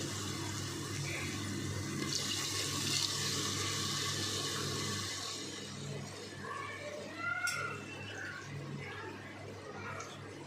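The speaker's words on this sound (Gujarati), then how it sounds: "હવે આપણે એમાં 3 કપ જેટલું પાણી ઉમેરી દઈશું।" About three cups of water are poured into a pressure cooker of sautéed vegetables for veg pulao with a gushing, splashing rush that slows toward the end, close by, followed by a few light clinks.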